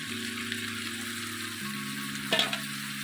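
Spices stir-fried with chicken in an iron pan over a wood-fired stove give a steady close sizzle, a tonal hum underneath and a brief clatter of stirring near the end.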